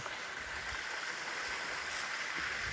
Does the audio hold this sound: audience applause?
no